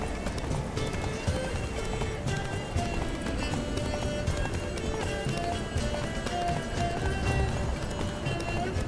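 Horse galloping in the video game The Witcher 3, a continuous rapid drumming of hooves at steady pace, dense and fairly loud throughout, mixed with game ambience and no clear pauses.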